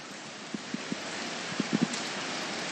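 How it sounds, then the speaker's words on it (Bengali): Heavy rain falls with gusty wind in the Dooars region near Dhupguri, making a constant broad hiss broken by scattered close drop taps. "ঝেপে বৃষ্টি নেমেছে আর তারই সঙ্গে বইছে দমকা হাওয়া"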